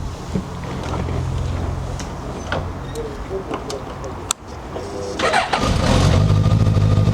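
A Suzuki GSX-S1000F motorcycle with 18,800 km on it cranks and fires up near the end, settling into a loud, steady idle after a few seconds of quieter clicks and handling noises.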